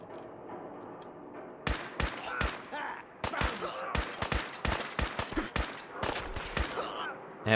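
Rapid bursts of player gunfire in Fallout 4 ring out loud and close, sharp cracks in quick irregular clusters over a low game ambience, with a brief pause midway before more shots.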